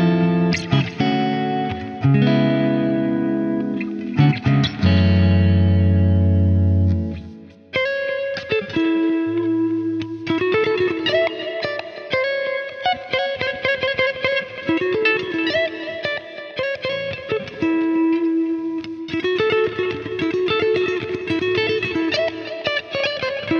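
A high-gain distorted electric guitar played through the Neural DSP Archetype Abasi plugin chugs heavy riffs, then moves into busier, ringing distorted passages, loud and continuous with no talk.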